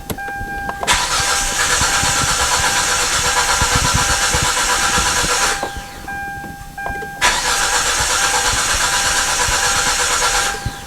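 2008 Hyundai Santa Fe engine cranking and catching, then running at a steady idle, loud and close. After a short pause it starts again and keeps running.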